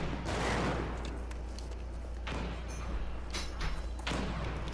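Frag grenade explosions and gunfire in a sniper-only shooter video game, several heavy booms and thuds spread across the moment, with loud crackling bursts between them.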